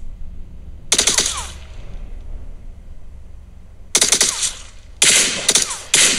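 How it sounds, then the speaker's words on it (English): Gunfire in the mobile shooter game PUBG Mobile: several sharp bursts of rapid automatic shots, loud and close, separated by quieter gaps of low game ambience. "Tap left fire button to shoot."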